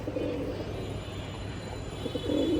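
Laldom and kaldom pigeons cooing in a cage, soft low murmuring coos repeating close by over a steady background hum.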